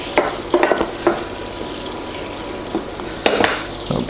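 Butter melting in a pan for a treacle tart, giving a faint, steady sizzle with scattered soft stirring and clinking knocks from a utensil against the pan.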